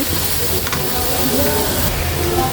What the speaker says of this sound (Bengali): আমার চিনিটা গলে আসছে আমি এখন আমগুলো দিয়ে দিব